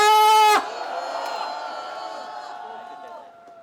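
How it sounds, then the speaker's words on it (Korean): A loud sustained voiced shout gives way to a crowd roaring and cheering at a street candlelight rally calling for an investigation of President Park Geun-hye, the cheer slowly fading. "이분들 위해서 큰 함성 한번 보내주십시오"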